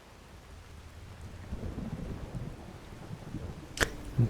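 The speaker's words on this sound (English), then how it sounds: "The rain stopping didn't last long." Rain pours in a video game, a steady patter on surfaces that slowly builds, with a sharp crack and a low rumble of thunder near the end.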